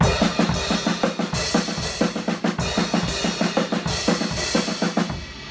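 A drum set plays a repeating accent pattern with the accents struck on the crash cymbal, sharp regular hits ringing over steady drum strokes, close and loud with no talking.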